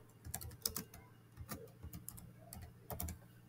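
Someone types on a computer keyboard, a quiet, irregular run of close key clicks in short bursts with brief pauses between them.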